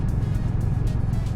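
Road traffic rumbles steadily around a Harley-Davidson X motorcycle riding through Kanwar Yatra crowds, a constant low engine and tyre drone with faint passing swells, close and continuous.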